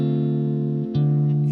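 Bass notes played a second away from chord tones in a Motown-style progression, a sustained electric bass tone that pauses briefly then resumes on a new pitch, clear and alone.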